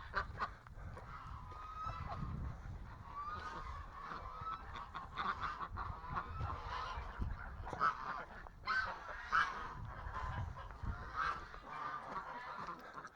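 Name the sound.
geese, ganders honking and fighting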